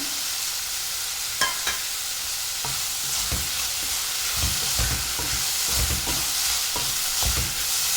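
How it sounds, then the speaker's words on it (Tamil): Onion and tomato gravy sautéed with salt in a pan for veg mutton liver chops, heard as a continuous close sizzle with repeated spatula scrapes and taps at irregular intervals, fairly loud, with no voices. "உப்பு சேர்த்து வதக்கும் போது சீக்கிரம் வதங்கிடுவோம் நல்லா"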